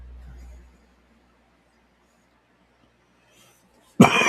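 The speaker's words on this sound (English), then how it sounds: "I'm coughing a lot this morning" A single loud cough bursts out abruptly at the end after a long near-silent stretch, preceded only by a faint low murmur at the start, from someone with a dry throat on a dusty morning.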